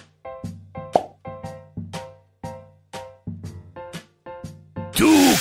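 Flour poured cup by cup in the Sesame Street Cooking With Cookie Monster video game, heard as a series of regular synthetic plopping tones about twice a second, then a brief burst of noisy whoosh at the end.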